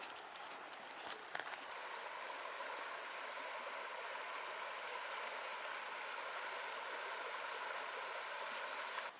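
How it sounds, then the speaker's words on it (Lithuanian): A river murmurs and gurgles softly along a nature trail by the Akmena, a quiet, even wash of flowing water, with a few faint rustles or steps near the start. "Ir visą laiką, kai eini, girdisi upės čiurlenimas"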